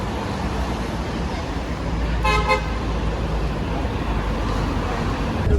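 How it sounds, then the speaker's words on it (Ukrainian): A city bus pulls up at a street stop on Ibiza, Spain, amid a steady low traffic rumble, with one short horn toot about midway. "Вже їде наш автобус."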